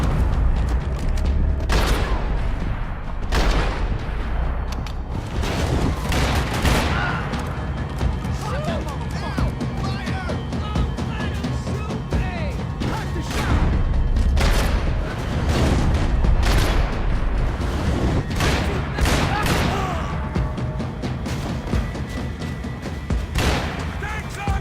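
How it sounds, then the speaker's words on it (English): Gunfire from the Max Payne 3 video game cracks out in repeated loud bursts and booms over Hoboken, mixed with crashes and a steady rumbling backdrop, while a voice narrates over the shooting. "Gunfire over Hoboken."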